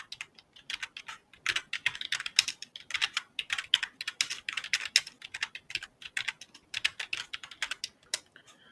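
Quick, irregular clicking of fingers typing on a computer keyboard, close and fairly soft, keystrokes coming in steady runs with brief pauses.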